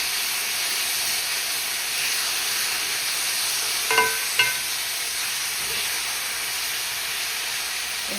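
Chopped tomatoes for prawn thokku sauté in a hot pan with a steady broad hiss and sizzle, close and even, broken by two brief utensil clinks midway.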